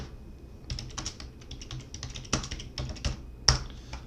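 Typing on a computer keyboard, with bursts of close, crisp key clicks coming in uneven clusters and a few sharper, louder strokes over a quiet room.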